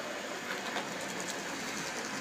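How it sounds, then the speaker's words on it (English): An N gauge model train runs along the track of a layout, a steady close whirring rumble of the small motor and wheels that continues evenly throughout. "Follow the train round."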